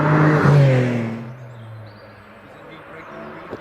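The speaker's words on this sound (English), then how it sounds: "Simon Tarling leaves the start line in the Porsche 996 GT3." A Porsche 996 GT3 pulls away from the start line at a hillclimb, its engine note rising loudly and then fading into the distance as the car climbs away.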